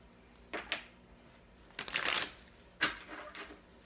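Tarot cards being shuffled by hand, three short riffling bursts, close and fairly quiet, with gaps of near silence between them.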